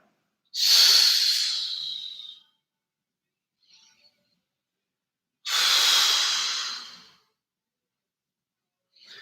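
Breathing during a core calisthenics workout: two long, loud, hissing exhales about five seconds apart, each lasting nearly two seconds, with a faint short breath between them and silence around.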